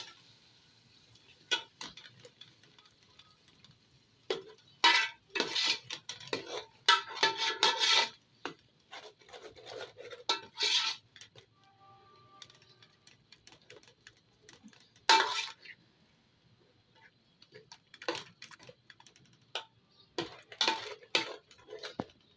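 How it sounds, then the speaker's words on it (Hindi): Yogurt and gram flour batter is worked into kadhi masala with a spoon, producing irregular clusters of sharp taps and clinks against the pot, separated by quiet pauses. "अब इसे अच्छे से मिक्स करना है"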